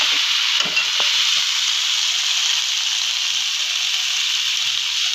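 Prawns fry with a steady, loud sizzle and hiss in a pan through a gönti chingri dish, while a couple of faint scrapes of stirring surface near the start.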